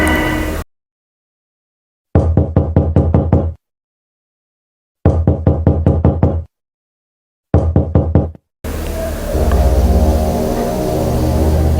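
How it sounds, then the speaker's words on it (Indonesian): Three separate bursts of rapid knocking on a door, each a quick run of sharp raps. Silent gaps fall between them, and a steady background drone follows. "Mulai dari ketok-ketok pintu gitu. Ketukan pintu itu sempat beberapa kali."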